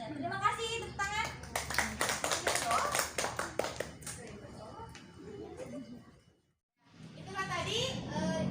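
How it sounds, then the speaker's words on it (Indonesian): Children in a classroom during a lesson on congregational prayer clap together in a brief burst of quick, uneven claps, with a teacher's voice and kids' chatter heard before and after. "terima kasih, tepuk tangan"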